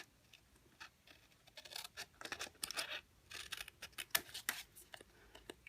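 Scissors snip through paper along a scored line on a lantern papercraft project, giving a run of short crisp cuts in quick irregular rhythm, close and fairly quiet with no talk.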